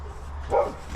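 A dog barks once at a distance outdoors, a short mid-pitched bow-wow rising briefly over a steady low background hum, with no other voices.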